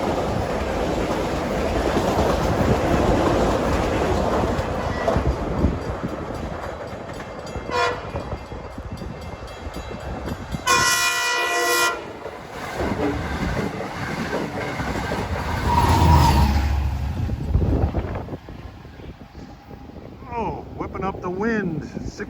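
Long Island Rail Road diesel trains pass at New Hyde Park, loud and close, with rumbling, clattering wheels and a brief horn blast, while a person talks over the noise.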